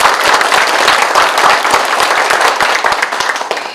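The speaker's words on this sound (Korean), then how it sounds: "다시 한번 여러분 큰 박수 의원님께 보내주시면 감사하겠습니다" A room full of people at a political candidates' debate in Sabuk, Jeongseon, South Korea applauds, dense and steady clapping continuing throughout, fairly loud and close.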